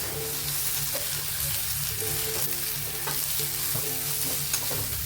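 Aloo bhindi with coriander leaves stirred in a frying pan, a steady loud sizzle with repeated rhythmic spatula scrapes and taps, close and continuous.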